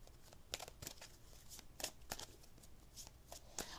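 Tarot romance cards are shuffled close up in quick, papery riffles and soft flicks, an irregular run of crisp bursts at a quiet level with no talking.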